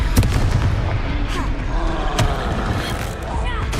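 Confringo fire spells exploding in Hogwarts Legacy combat, with loud, punchy bursts and crackling blasts packed close together over a dense mix of game sound, while a voice calls out over the action.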